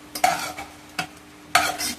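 Fried prawns go into a simmering curry of potato, pointed gourd and taro, with several sharp sizzling bursts and stirring scrapes rising over a steady bubbling hiss, close up and with no talk.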